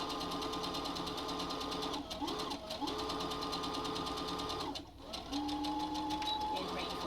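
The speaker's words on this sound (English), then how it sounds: "Straight stitch, reinforce it, going backwards and forwards." A sewing machine straight-stitches a cloth face mask seam, reinforcing it by going backwards and forwards, with a continuous close motor hum broken by two short pauses.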